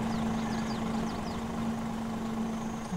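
Tractor and combine harvester engines in Farming Simulator 22, a steady idling rumble with a constant low drone running loud and unbroken throughout, no voices.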